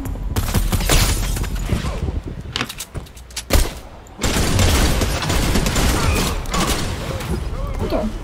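Fortnite gunfire erupts in bursts of sharp shots mixed with game noise, loud and close, with a brief lull before the firing resumes.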